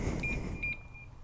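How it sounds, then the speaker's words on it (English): A 2023 BMW S1000XR motorcycle's alarm being armed gives a few short electronic beeps, fairly quiet and close, over a low background rumble with no talk. "getting off a BMW, yeah, it's kind of cool to turn on the alarm."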